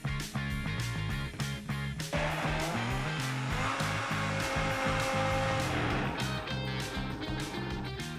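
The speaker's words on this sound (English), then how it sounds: "We are gonna blend this until it is nice and smooth" A blender runs loudly and continuously for the whole stretch, whirring through a vegan cheese sauce thickened with tapioca starch, its pitch rising and shifting as the mixture smooths out.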